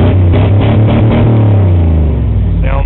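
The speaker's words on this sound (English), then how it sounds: "And get in and rev her up a bit for you guys" A 1988 Chevy Silverado truck with a 350 TBI engine runs loud and close, its deep droning rev holding steady before the pitch sags as it settles back toward idle.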